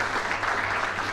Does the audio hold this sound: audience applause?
yes